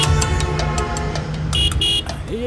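Cartoon vehicle horn honking in repeated short blasts over a dense, continuous traffic-like drone.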